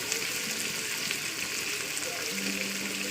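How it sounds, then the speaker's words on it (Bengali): Onions frying in a pan with a dense, steady sizzle and crackle that stays continuous throughout, close and fairly loud, with faint talk in the background. "এই ভাজা করছে পেঁয়াজ দিয়ে"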